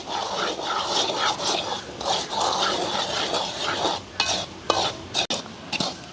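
Semolina stirred while roasting in a pan: continuous scraping and rustling of grains against the metal, with sharper clicks of the spoon near the end, close and fairly loud with no talk.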